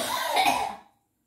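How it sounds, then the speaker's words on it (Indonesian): A single child's cough, a burst lasting under a second, close and fairly loud, then silence. "Lah iya batuk kau."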